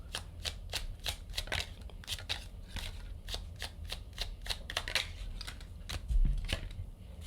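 Tarot cards are shuffled by hand close up, giving a quick run of crisp, rhythmic slaps and flutters that ease briefly before picking up again, with no talking.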